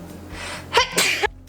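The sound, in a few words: sneeze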